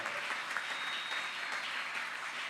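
Church congregation clapping during a Sunday worship service, a dense and steady round of applause from many hands with no talk over it.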